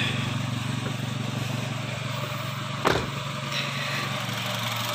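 A 2010 Honda Jazz RS engine idles steadily, a close, even hum with a faint high whine, interrupted once by a brief sharp click or clunk near the middle.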